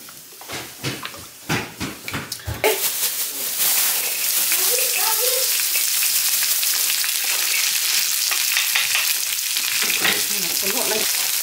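Vegetables hit a hot pan, starting with a few knocks and clatters before a loud, steady sizzle of frying that keeps going, with a voice talking faintly underneath at moments.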